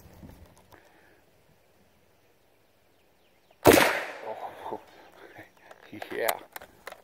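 A single sharp, loud report from a .30-06 rifle firing lead bullets at a small steel target breaks a quiet stretch, followed by a short ringing decay and voices talking.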